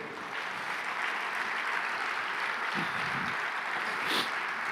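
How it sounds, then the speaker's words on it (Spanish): A church congregation applauds during a service, a steady, fairly faint wash of many hands clapping heard from a distance, with a couple of brief low thumps partway through. "¿Cuánto le dan un fuerte aplauso al Señor?"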